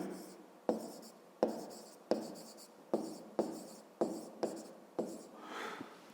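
A pen writes an equation by hand in a series of eight or so sharp, evenly spaced strokes, each a crisp scratch fading quickly. Close and fairly quiet, with a softer rubbing scratch at the end.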